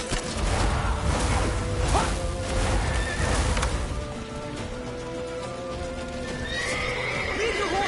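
A horse in The Witcher video game gallops with rapid clip-clop hoofbeats and gives a loud neigh. Whooshing game effects sound around it, and the hooves thin out toward the end.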